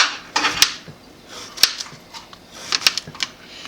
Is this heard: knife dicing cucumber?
yes